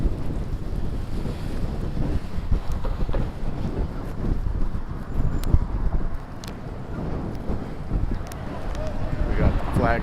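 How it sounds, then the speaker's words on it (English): Steady, loud wind buffets the microphone outdoors in downtown Minneapolis in December, a continuous rushing roar across the whole stretch with faint traffic-like rumble underneath. "Definitely a lot more pleasant than trying to ride against the wind"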